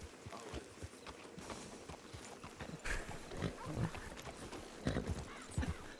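Horse hooves clip-clop in an irregular trot through a video game crowd, mid-distance and fairly loud among scattered thuds and game noise.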